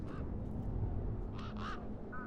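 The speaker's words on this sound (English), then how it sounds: "You see all these birds all over the place?" Birds in the PC video game Beyond a Steel Sky give a few short harsh caws, two close together near the middle, over a steady low ambient rumble.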